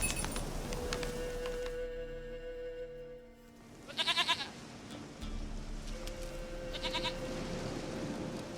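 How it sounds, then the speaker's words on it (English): A goat in The Witcher 3 gives two short, loud bleats amid quiet game ambience with faint tonal music, the cries standing out clearly against the calm background. "Goat of mine, dearest, sweetest goat."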